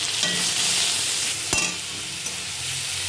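Grated onion frying in oil, a steady loud sizzle throughout with one sharp stirring scrape near the middle.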